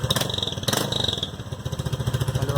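Honda PCX scooter fitted with an ML Competition popping exhaust, the engine running up close in a rapid pulsing putter with sharp crackling pops near the start.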